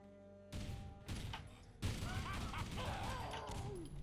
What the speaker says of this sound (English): They do have custom sound effects as well, the guns.